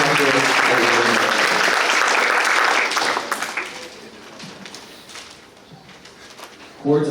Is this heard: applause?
yes